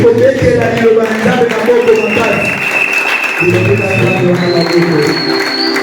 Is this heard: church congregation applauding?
yes